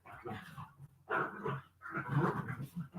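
Several dogs growl and pant nearby, with rough, throaty bursts and heavy breathing coming in uneven waves, quiet but close, with no one speaking.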